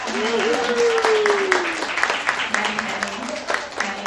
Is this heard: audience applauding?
yes